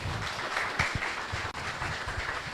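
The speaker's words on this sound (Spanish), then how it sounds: "Un fuerte aplauso para la doctora." Conference audience applauding after an accounting talk, a steady dense patter of many hands clapping throughout, fairly close and even in loudness.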